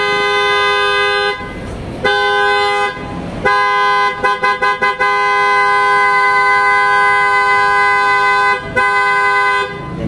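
A PIA horn fitted to a car, tested for loudness in Pagadian City, blares in long, loud sustained blasts, then a quick stutter of short toots and more long held honks, close and piercing.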